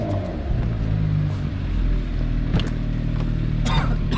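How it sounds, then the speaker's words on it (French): Mercedes-AMG GT 4-door from 2020 heard from on board, its engine and exhaust giving a steady loud rumble with a few sharp pops and crackles near the end. "très beau son. Vraiment, comme il faut, les petites pétarades et tout, c'est magnifique"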